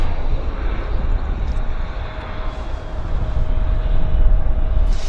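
Jet airliner engines roar steadily at Vancouver Airport, a loud, broad sustained rumble that swells slightly toward the end, with no talking over it.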